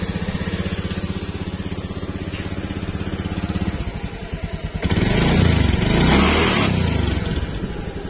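A used motorcycle bought at auction is restarted, its engine settling into a steady, slightly noisy idle before a louder surge of revving near the end, close and with no talk over it.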